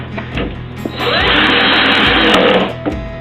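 Power drill driving screws into a bookshelf, a loud close whir lasting about a second and a half, with softer taps and handling before and after.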